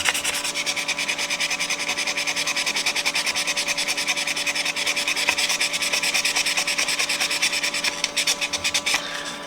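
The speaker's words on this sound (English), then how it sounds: "I'm going to go for a little piece of 1000 grit. Try and sand on that a little" Sandpaper of 1000 grit rubbing over the metal of a Hubley toy truck under restoration, a steady close rasping scrub of quick back-and-forth strokes that runs throughout without pause, with no voices.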